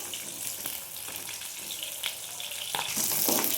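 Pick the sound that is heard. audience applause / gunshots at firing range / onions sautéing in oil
onions sautéing in oil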